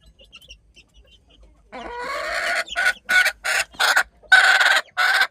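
A mother hen recently moved away from her chicks clucks in a series of close, fairly loud bursts after a quiet start, with no voices present.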